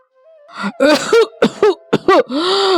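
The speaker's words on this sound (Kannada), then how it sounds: "ಕೆಮ್ಮಿನ ಶಬ್ದ ಮನೆಯೆಲ್ಲ ಮಾರ್ದನಿಸುತ್ತಾ ಇರುತ್ತದೆ" A person coughs repeatedly in a close, loud series of harsh bursts, ending with a raspy, drawn-out throat sound.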